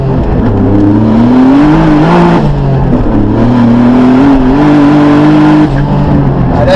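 A 600 HP Hyundai Genesis Coupe engine revs loudly and steadily up close, its pitch climbing and holding in long pulls with brief drops between revs, alone with no talk.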